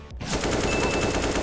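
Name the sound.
rifle spray gunfire in video game Counter-Strike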